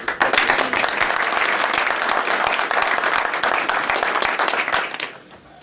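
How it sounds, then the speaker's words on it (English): Sustained applause from an audience at a swearing-in ceremony for a county fire chief and county attorney, dense steady clapping close by that fades out at the end. "can we give a round of applause?"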